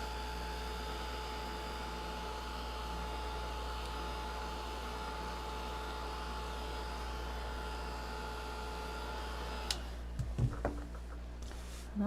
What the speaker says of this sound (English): Let's dry it real quick.